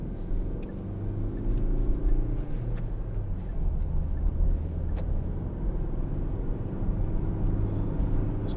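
A 2013 Hyundai i40 1.7 CRDi Style diesel pulls away smoothly, its engine a steady low rumble heard from inside the cabin, with faint ticks and road noise over the drone.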